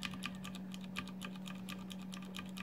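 Keys clack quickly on a mechanical keyboard fitted with Cherry MX White switches, a rapid run of light clicky strokes over a steady low electrical hum.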